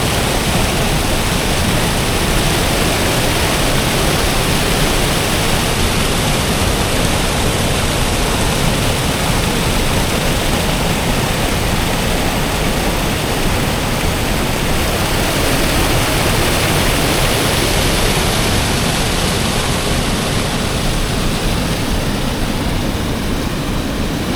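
Steady, dense roar of a waterfall, constant and loud throughout with no pauses or voices.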